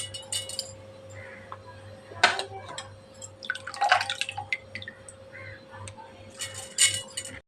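Water drips from soaked rice as it is drained for neer dosa batter, giving scattered close, light drips and clinks against a container over a steady low hum.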